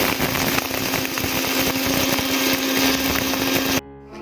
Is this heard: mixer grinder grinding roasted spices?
yes